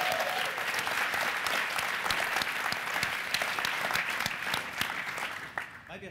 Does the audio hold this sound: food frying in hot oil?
no